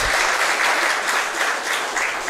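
A crowd at a bantamweight grappling match bursts into steady, dense applause that stays loud and even through the short stretch.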